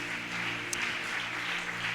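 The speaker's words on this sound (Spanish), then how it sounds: "denle ese aplauso al Señor" Church congregation clapping during a sermon, a soft continuous patter of many hands under a steady sustained keyboard chord, fairly distant and even throughout.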